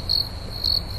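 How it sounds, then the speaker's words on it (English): Crickets chirping outdoors: two short, thin, high trills a moment apart, clear against a quiet low background. "Crickets, crickets."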